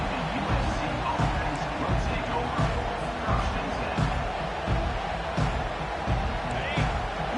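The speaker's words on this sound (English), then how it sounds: "Listen to the crowd energy here in the early going." A college football stadium crowd at USC versus UW roars steadily in the early going, with rumbling cheers and a few sharp thuds under a broadcast commentator's voice.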